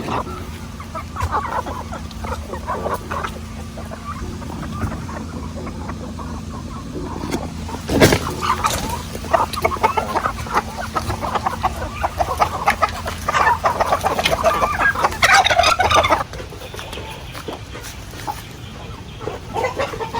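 Several chickens clucking and murmuring continuously, with busier bursts of squawking partway through, all close by with no talking.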